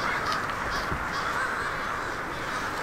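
Crows cawing near their roost in Granby, Quebec, many overlapping caws from a flock at middle distance over a steady hiss of background noise.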